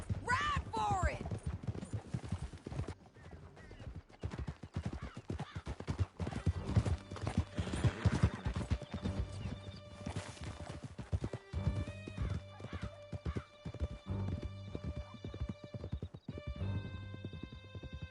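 Horses gallop in the video game Red Dead Redemption with a rapid, continuous clip-clop of hooves. Whinnies, voices and scattered gunfire sound over the hoofbeats.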